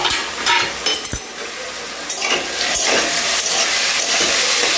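Vegetables fry in a pan for a flattened-rice pulao, a loud, close, continuous sizzle with a few spoon scrapes and light clinks near the start.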